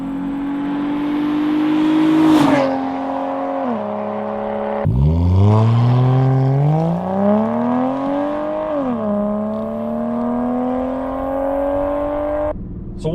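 A Ford Fusion Sport with a 3.5L engine and cat-back exhaust revs up and settles back several times. The strong exhaust note rises and falls smoothly and sounds close and loud, with no talking.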